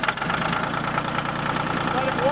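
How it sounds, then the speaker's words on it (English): A John Deere tractor engine idles nearby with a steady low rumble and slight knocking, heard alone and close, continuous for the whole span. "John Deere, we can put the key in, give it a little bit of gas, take it out of gear"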